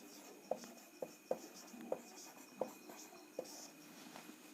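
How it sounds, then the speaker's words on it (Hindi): A word being written on a board during a lesson: six distinct taps and short scratchy strokes at irregular spacing, close and fairly quiet over a faint steady hum, with no talk. "अब देखिए मैं खाली यहां पर आदमी लिखता हूं"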